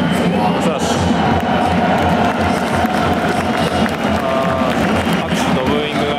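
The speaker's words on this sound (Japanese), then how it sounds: "拍手とブーイングが入り混ざる感じになってますけれども" Stadium crowd at a Hokkaido Consadole Sapporo versus Gamba Osaka football match at Sapporo Dome, a loud, steady wash of mixed applause and booing that fills the whole space without letup.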